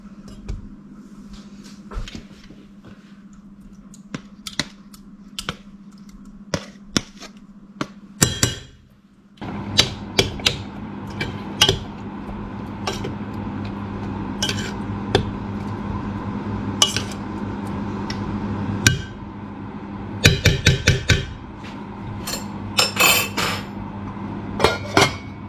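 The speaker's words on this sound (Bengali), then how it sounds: "এই কন্টেনারের ওপরের পোর্শনটাকে খুলতে হবে" Plastic fish soup container having its top portion pried open, a series of sharp clicks, taps and rattles, close and intermittent, with a denser cluster of clatters near the end.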